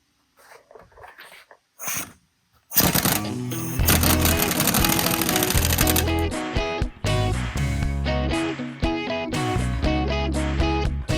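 An impact wrench tightening wheel lug nuts during a tire rotation, a few brief quiet clicks and knocks followed by long loud rattling hammering bursts that stop and restart several times, close and dominant.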